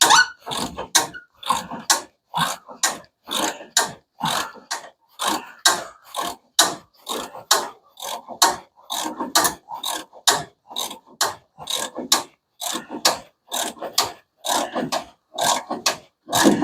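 Ratchet working steadily while fenders are bolted onto a 1975 Hemi Plymouth Duster, a long run of quick, evenly spaced rasping clicks close up, with no talking.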